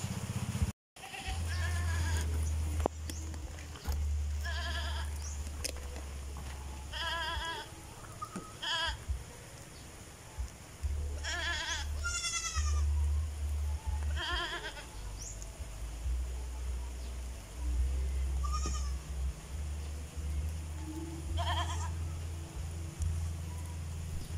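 Goats bleat repeatedly under shelter in the rain, several wavering cries spaced across a steady background rumble, some close and some farther off.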